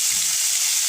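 Spinach and potatoes frying together in a pan give a steady, even sizzle, a close hiss that holds without a break and has no voices over it.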